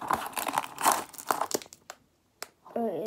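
Crinkly plastic packaging is unwrapped close by in loud, uneven bursts of crumpling and tearing, then goes briefly quiet before a voice begins talking.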